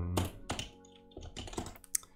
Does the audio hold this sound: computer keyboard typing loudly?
yes